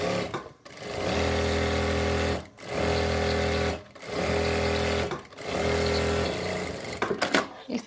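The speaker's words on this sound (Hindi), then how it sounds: "अब हम बैक हिस्से के आसन की सिलाई लगाएंगे।" A sewing machine stitches the back crotch seam of palazzo pants in four loud, steady runs, each a few seconds long, broken by short pauses and a few clicks at the end.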